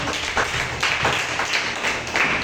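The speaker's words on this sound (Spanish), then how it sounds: "Den un fuerte aplauso al Señor en esta" A church congregation applauding together during a Spanish-language service, a dense, steady wash of many hands clapping in a rhythmic pulse, close and loud.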